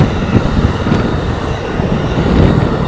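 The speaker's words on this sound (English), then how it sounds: "the Amtrak coming from Chicago down to Springfield." An Amtrak passenger train running from Chicago to Springfield rolls past close by, a loud rumbling roar with wheel clatter and faint squeal, continuous throughout.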